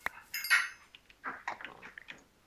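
Dogs barking in the Minecraft video game, several short yelps in quick bursts, fairly faint and spread across the moment.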